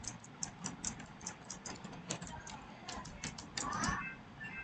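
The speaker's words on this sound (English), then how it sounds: "now I am typing some text." Quick, irregular clicks of typing on a keyboard, fairly close and soft, with a low background hum underneath.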